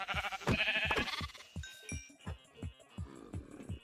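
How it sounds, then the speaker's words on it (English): A baby sheep bleats in the Minecraft video game, a series of short wavering cries repeated in quick succession, fairly close and clear with no talk over them. "Oh, this is a little baby sheep."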